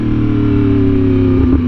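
A Yamaha R1M sport bike pulls hard, its engine note steady and loud with strong low harmonics, rising slightly near the end of a short burst.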